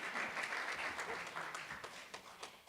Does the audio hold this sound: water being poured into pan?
no